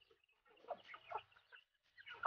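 Faint clucking from a native rooster in a few short bursts, with quiet gaps between them and a sharper call at the end.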